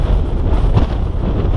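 Strong wind buffets the microphone on a Scottish hilltop, a steady loud low roar with gusty surges throughout and no voices.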